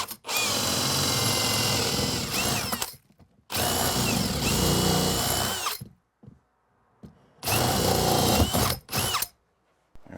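Power drill boring through a wooden wall stud during bedroom rough-in wiring, three bursts of whining, grinding motor noise, each running a few seconds, separated by short silences, close and fairly loud.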